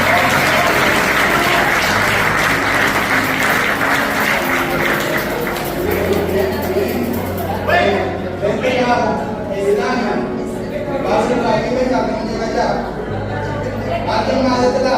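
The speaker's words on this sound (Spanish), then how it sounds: "Bueno, un aplauso al Señor." A church congregation applauds at a Sunday Bible school service. The clapping is loud and dense at first, then thins into scattered claps mixed with crowd murmur and nearby voices.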